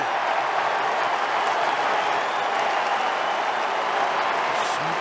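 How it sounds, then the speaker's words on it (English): A packed stadium crowd at Spotless roars continuously during an AFL preliminary final between GWS Giants and Western Bulldogs after a goal, a dense, steady wash of cheering with no breaks. "And the crowd jump out of their seats here at Spotless."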